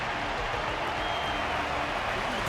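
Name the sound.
audience applause in video game Honkai: Star Rail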